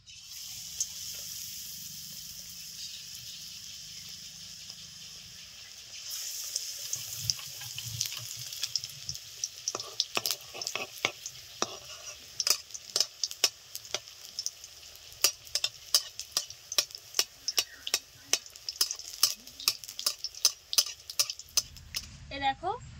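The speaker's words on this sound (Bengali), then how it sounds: "এক ঝুড়ি বেগুনি ভেজে নিয়েছি।" Brinjal beguni fritters frying in hot oil in a home kitchen, a soft steady sizzle with frequent sharp clicks and taps of a utensil against the pan, fairly close.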